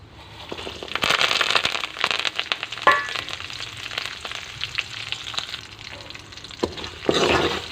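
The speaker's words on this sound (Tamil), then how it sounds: "இப்போ கடுகு நல்லா பொரிஞ்சு வந்ததுக்கு பின்னாடி அது கூட வெங்காயம் மிளகாய் கறிவேப்பிலை மூணையும் சேர்த்திக்கலாம்" Onion, chili and curry leaves hit hot oil with popping mustard seeds in a pan, giving a loud, close, continuous sizzle and crackle with stirring scrapes and sharp pops throughout.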